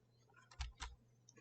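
A few faint keystrokes on a computer keyboard typing a short file name, two clustered clicks then a lighter tap in a quiet room.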